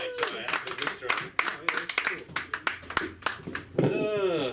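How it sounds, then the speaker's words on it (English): An audience at a comedy open mic claps in a brief, scattered burst of applause, moderately close, mixed with talking and cheering voices. "I want you to give a warm round of applause for the Mr. Mike Moody."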